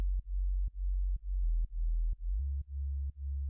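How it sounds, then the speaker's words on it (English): An unmixed sub bass synth in FL Studio for a future house track plays a run of deep, pure sine notes, each cut by a short click as the next note starts, steady and loud with no other sounds. "Now let's very quickly mix the sub bass."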